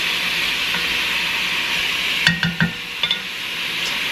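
Beef browning for stew in a pot, stirred with a few quick scrapes and clanks over a steady close sizzle of frying meat.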